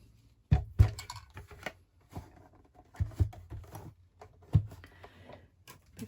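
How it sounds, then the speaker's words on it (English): Paper goes through a Stampin' Cut and Emboss die-cutting machine with a die and platforms, making uneven thumps, clunks and ratcheting clicks in close, irregular bursts, with no voices. "I'm going to run that through my Stampin' Cut and Emboss machine"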